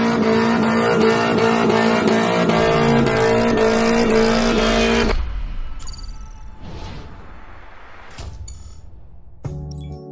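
Subaru Forester fitted with a swapped Nissan SR20 Camelback engine from an NA Silvia S14, revving hard with steady harmonic engine tones for about five seconds, then cutting off to quieter idle with scattered clicks and a sharp knock near the end.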